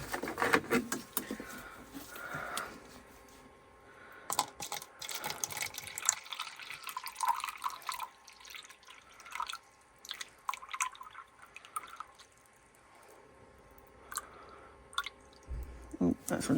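About 105 grams of water poured into 300 grams of Eco Pour powder mix for a resin trinket tray, dripping and pattering into a container at close range, intermittent, with a person talking throughout.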